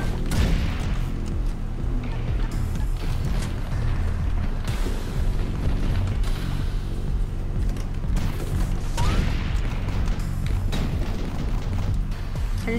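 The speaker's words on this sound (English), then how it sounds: "I just shot a bomb." A bomb blast in the shooter game Cobalt, a dense roaring rumble that stays loud and continuous throughout, carried along by chaotic battle noise.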